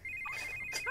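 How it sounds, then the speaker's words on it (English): A telephone ringtone chirps loudly and close, bright electronic tones rising and warbling in a short burst on its own. "Calm down, it's just the phone."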